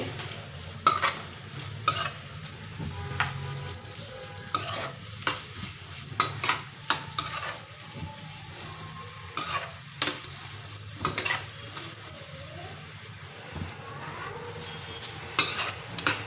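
Onions fry in oil for a village-style country chicken curry, a continuous sizzle broken by repeated scraping and clanking of a metal spoon stirring against the pan.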